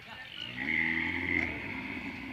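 At the Tavarekere cattle fair in Sira taluk, a Hallikar bull lets out a low, drawn bellow amid faint background voices and crowd murmur.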